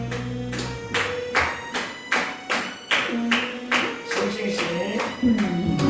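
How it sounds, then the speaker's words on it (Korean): Rhythmic clapping from a church youth congregation keeping time with a worship song, roughly two claps per second in an even beat, loud and close over sustained musical tones. "박수 치면서"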